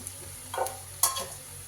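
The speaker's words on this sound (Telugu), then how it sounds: "ఒక రెండు మూడు నిమిషాలు అయితే బాగా వేయించాలి ఆనియన్స్ వేగాలన్నమాట" Onions and curry leaves for gongura chicken fry in a pan with a soft, steady sizzle, while a couple of short stirring scrapes stand out close by.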